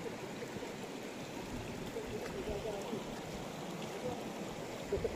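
A river stream flows steadily at middle distance, a continuous soft rushing with faint trickling detail throughout, fairly quiet and unbroken.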